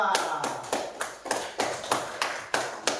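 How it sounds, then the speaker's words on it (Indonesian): Students in an Indonesian classroom clap together in a brisk, regular rhythm, sharp synchronized claps about three per second, moderately near and fairly soft in the room. "kita beri tepuk tangan dulu untuk kelompok 2"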